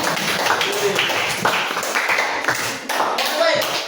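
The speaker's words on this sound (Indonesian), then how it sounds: "Tepuk tangan untuk dia." Students in a classroom clap for a classmate, a burst of scattered, uneven hand claps from a small group close by, with children's voices mixed in.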